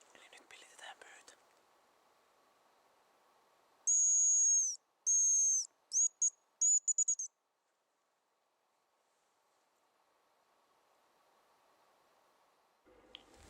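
A decoy whistle imitates a hazel grouse with a few thin, high, piercing notes in short bursts, sounded outdoors in quiet forest during a grouse hunt.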